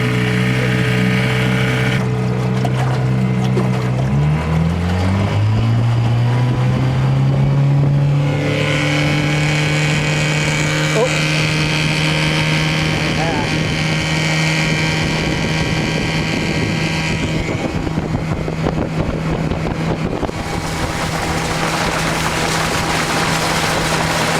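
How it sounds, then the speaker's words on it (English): A Craftsman 5hp 2400-watt generator engine runs steadily and loudly throughout, its pitch climbing early on and then holding an even, droning hum with no voices. "It's pretty amazing how quiet this engine is. It really purrs right along."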